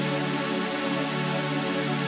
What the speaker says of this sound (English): Without the auto filter, the chords actually sound like this.